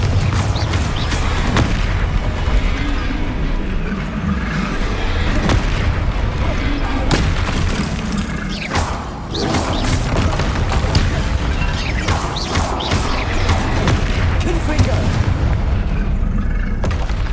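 Repeated Confringo blasting-spell explosions from Hogwarts Legacy, dense booming bursts and crashes packed one after another across the clip at steady high loudness, with battle clutter between the blasts.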